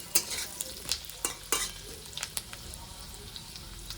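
Diced carrot chunks fry in a pan with a bright, continuous sizzle, broken by rhythmic spatula scrapes and stirs that come quickly at first and then grow softer and sparser.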